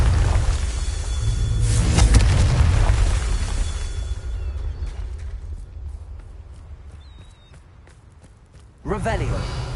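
A Confringo fire spell goes off in Hogwarts Legacy as a loud, broadband blast that swells, then fades slowly over several seconds, with a second sharp burst near the end over continuous game sound.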